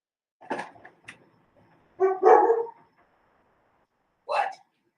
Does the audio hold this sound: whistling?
no